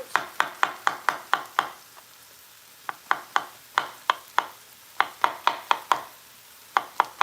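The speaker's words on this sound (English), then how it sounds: "So I'm going to start cutting my mushrooms." A kitchen knife cuts mushrooms on a board for a vegan TVP bolognese sauce. Crisp, close chops land in quick rhythmic bursts, separated by brief pauses. No one speaks.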